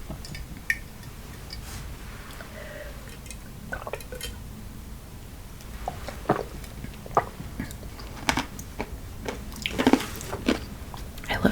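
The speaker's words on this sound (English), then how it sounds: "I love chewing ice." Someone chews ice cubes up close, producing a scattered series of sharp crunches and crackles, denser toward the end, in a quiet setting with no talking.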